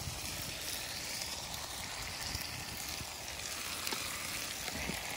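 Dry chili powder hits hot oil already holding ginger-garlic paste and turmeric for a village-style rohu fish curry with green banana, giving a steady, close, soft sizzle and hiss with no talking.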